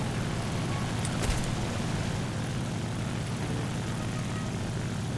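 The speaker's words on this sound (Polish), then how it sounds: "Ale usłyszałem silnik." A propeller aircraft engine in the War Thunder game drones as a faint, steady low hum, continuous across the whole stretch without talk.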